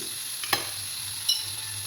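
Masala spices fry in a pan for a squid and potato roast, giving a soft continuous sizzle close by, broken by two sharp scraping clicks of a stirring spoon.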